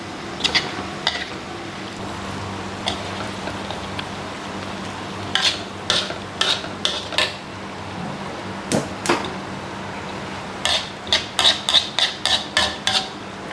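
Cashew nuts fry in oil with curry leaves while a utensil stirs them, giving a soft background sizzle. Sharp metallic scrapes and clinks come in irregular bursts, denser toward the end.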